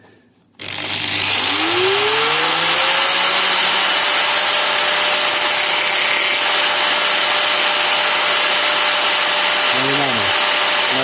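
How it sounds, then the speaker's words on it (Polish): An angle grinder whirs up to speed with a rising whine, then runs as a steady, loud, high-pitched grinding drone, briefly dipping near the end. "Odpalamy szlifierkę."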